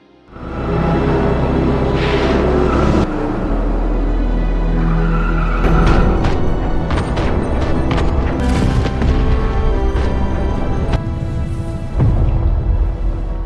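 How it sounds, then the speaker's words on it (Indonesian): Loud action-scene sounds: bursts of rapid gunfire and sharp impacts over a heavy, booming low rumble like an explosion, continuous and intense. "mobil Reno harus diberondong tembakan oleh para anak buah Tar"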